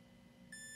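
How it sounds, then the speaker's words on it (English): Electronic beep from a Mini-Educator e-collar remote while the red, black and T buttons are held down with the level at zero, entering as a steady tone in the second half and continuing to the end over faint background. "you hold them down until you get that beep"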